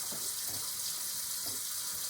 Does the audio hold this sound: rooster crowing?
no